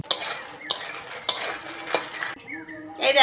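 A spoon scrapes and clinks against a pan while makhana is stirred and fried. Separate sharp strokes come at a steady pace over a soft background, and a brief metallic chime sounds near the end.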